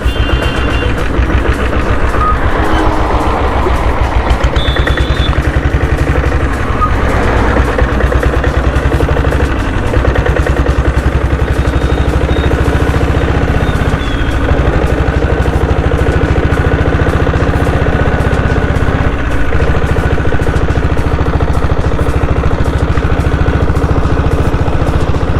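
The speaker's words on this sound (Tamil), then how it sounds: "இன்ஜின் நாய்ஸ் அந்த அளவுக்கு இல்லை." Restored diesel Bullet motorcycle engine idling steadily up close, a continuous loud low throb with an even rapid knock and a faint light ticking from the valves, heard alone without talk.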